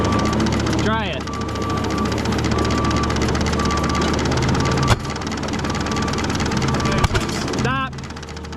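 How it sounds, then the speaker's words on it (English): A 1935 Allis Chalmers UC tractor engine runs steadily outdoors with a loud, continuous rumble, broken by two sharp backfire pops in the second half; people are heard talking over it. "our tractor was backfiring outside"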